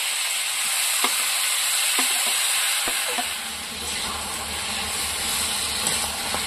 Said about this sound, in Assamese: আদা নহৰু ফুলকবি ভাজি হৈছে ন হয় ফুলকবিখিনি ভাজি হৈছে